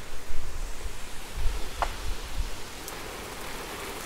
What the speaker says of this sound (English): I just got out of the rainstorm